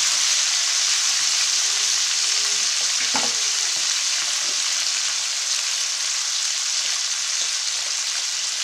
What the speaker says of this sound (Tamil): அடுத்து டொமேட்டோ போட்டுக்குருவோம். கொஞ்சம் நேரம் ஃப்ரை ஆகட்டும்.